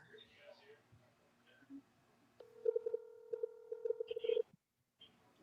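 An Android phone call rings out over speakerphone as a steady electronic ringback tone lasting about two seconds, with people talking and reacting around it.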